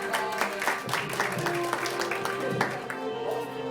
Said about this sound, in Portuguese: Gente, palmas pra ela.